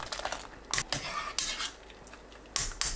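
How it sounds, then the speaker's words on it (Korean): Ladle or utensil clinking against a pot while lifting out broth ingredients such as kelp, a few scattered metallic clatters and scrapes at close range with no talk. "10분 후 육수 재료를 건져냅니다."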